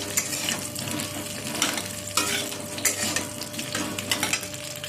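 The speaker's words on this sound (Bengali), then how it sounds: "একটু ভালো করে নাড়াচাড়া করে নেব" Jujube (kul) pickle being stirred in a pan, with a steady close sizzle under repeated scraping strokes of a spoon against the metal throughout.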